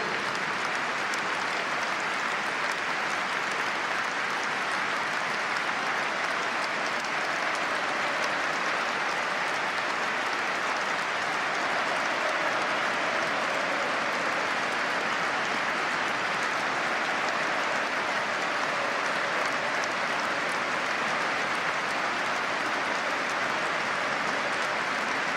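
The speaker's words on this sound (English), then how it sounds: "ask you to join in a minute's applause, which will begin on the referee's whistle" A football stadium crowd at a Premier League match, Newcastle United v Manchester United, holds a minute's applause in memory of a former goalkeeper, producing a steady, dense roar of clapping that stays even and sustained throughout.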